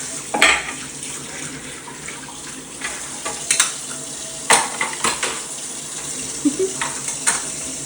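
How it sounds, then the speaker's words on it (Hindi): Dishes, pots and pans are washed by hand, with running water from the tap and scattered clinks and clatters of utensils, close and moderately loud. "मैं अपने हस्बैंड के बर्तन धुलवा रही हूँ।"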